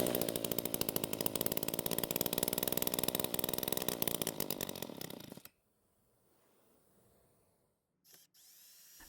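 A Poulan gas leaf blower engine, freshly dried out, fires on a pull and runs loudly and steadily for about five seconds before cutting off abruptly, leaving near silence with a brief faint knock.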